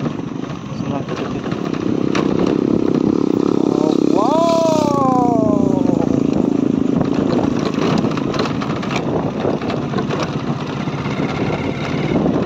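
Motorcycle engine droning steadily while riding, with a bike that has weak brakes, heard as a constant loud rumble with wind noise, and voices talking over it briefly in the middle.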